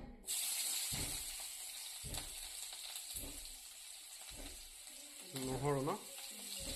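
Onion fries in oil in a wok with a continuous soft sizzle and hiss, plus a few regular dull knocks and a brief voice near the end.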